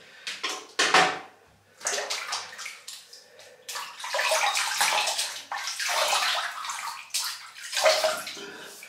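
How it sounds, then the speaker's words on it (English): Water splashing and sloshing in a shower as the face is wetted before a shave, with irregular bursts of splashing and short pauses between them, close and moderately loud. "So I'm gonna wet the face"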